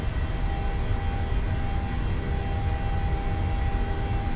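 Simulated PMDG 737-800 jet engines at takeoff power in Microsoft Flight Simulator, a loud, steady broadband roar with a faint whining tone riding on top, continuous and unbroken with no talking.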